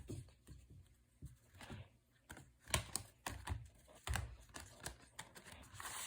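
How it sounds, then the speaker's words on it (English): A deck of tarot cards is shuffled by hand, producing quiet, close, irregular papery taps and flutters in uneven bursts with no voices. "I'm going to do one more shuffle."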